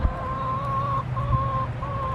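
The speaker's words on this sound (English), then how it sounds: "strawberries to their meal will make them a happy flock of chickens" A small backyard flock of chickens in a mobile coop, pecking at strawberries, gives soft, repeated clucks and murmuring calls over a low rumbling background. The sound is steady and close, with no talking.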